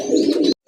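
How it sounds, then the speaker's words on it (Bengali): A pair of pigeons of two different breeds gives a low, steady cooing drone, close and fairly loud for about half a second, then it cuts off into a brief silence. "মাশাআল্লাহ, আরেক জোড়া কবুতর চলে আসছে"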